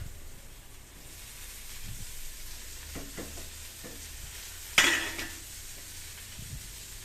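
Garlic and tomato frying in a pan for egg curry, a steady soft sizzle with a few light spatula taps and one sharp metallic clank midway.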